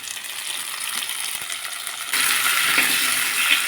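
Tomatoes sauté with curry leaves in a pan for kathalai kara kuzhambu, a steady sizzle and crackle that grows louder midway, with light stirring clinks and no talk.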